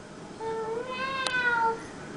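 A young child imitates a cat's meow in one drawn-out, rising and falling meow, close and clear against a quiet room.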